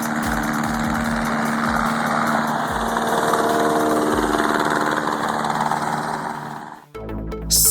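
A homemade vehicle's small engine runs steadily at close range, a loud buzzing drone with a rough mechanical rattle, dropping out briefly near the end before revving back up.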